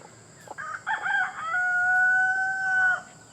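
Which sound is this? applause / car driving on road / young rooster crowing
young rooster crowing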